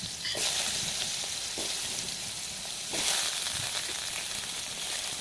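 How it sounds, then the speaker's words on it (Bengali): Cauliflower florets, cut and tossed with turmeric and salt, fry in hot oil with a loud, steady sizzle and crackle throughout, swelling briefly in bursts as pieces shift in the pan. "এবার তেলটা গরম হলে দিয়ে দেবো কেটে রাখা ফুলকপিগুলো।"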